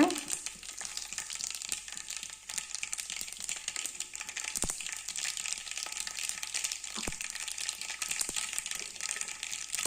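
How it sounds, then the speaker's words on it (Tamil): Mustard seeds and cumin sizzle in hot oil, a continuous close crackling fry with a few sharp pops and faint stirring scrapes, no voices. "எண்ணெய் சூடானதுக்கப்புறம் கடுகு சீரகம் போட்டு லைட்டாக வதக்கி விடுங்க"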